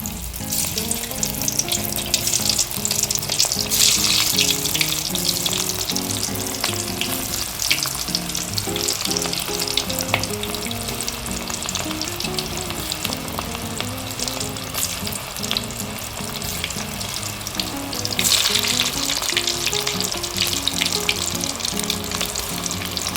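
Balls of bread pakoda batter fry in hot oil in a pan, a loud, continuous close-up sizzle with crackling bursts that swell near the start and again toward the end, with no voices.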